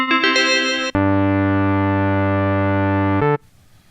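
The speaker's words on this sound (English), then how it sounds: "The sound you hear is doubled and transposed and a lowered filter cutoff." A synthesizer tone doubled and transposed, likely by a fifth, with a lowered filter cutoff: a steady, buzzy sustained note with a brief choppy attack, held loud for about two and a half seconds before stopping abruptly.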